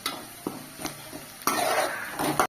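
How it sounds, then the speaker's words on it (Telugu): Onions, green chillies and curry leaves fry in ghee for a chicken fry, a soft sizzle punctuated by clinks and scrapes of a spoon against the pan, swelling into a louder hiss near the end. "ఉల్లిపాయలు వేగిపోయండి."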